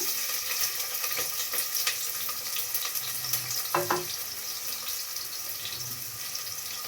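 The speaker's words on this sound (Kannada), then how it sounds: "ಚೆನ್ನಾಗಿ ಈರುಳ್ಳಿ ಫ್ರೈ ಮಾಡ್ತಾ ಇದ್ದೀನಿ ಬ್ರೌನ್ ಕಲರ್ ಬರೋ ತನಕ ಚೆನ್ನಾಗಿ ಫ್ರೈ ಮಾಡ್ತಾ ಇದ್ದೀನಿ" Two finely chopped onions fry in about three spoons of oil in a pressure cooker pot, making a continuous sizzle with faint scattered crackles and a couple of brief clinks midway, no voices.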